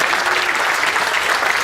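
Dense, steady audience applause at an outdoor community festival, a full wash of many hands clapping at an even, loud level with no voices standing out.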